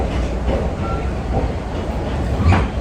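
Passenger train in Polangui, Bicol, rolling along the rails with a loud, steady rumble and faint rhythmic clatter from the wheels, heard from inside a carriage.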